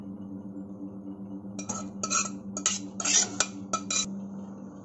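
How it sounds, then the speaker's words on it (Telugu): A metal spoon scrapes and clinks against a pot and bowl in a home kitchen as mashed food is scooped out, a cluster of sharp clatters over a steady low hum, with no talk. "దీన్ని నేను బౌల్లో తీసేసుకుంటాను."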